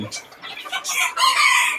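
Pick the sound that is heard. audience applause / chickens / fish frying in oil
chickens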